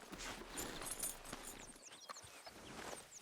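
Horse hooves clip-clop in a steady walking rhythm from Red Dead Redemption 2, close and moderately quiet, with a few faint creaks and chirps around them.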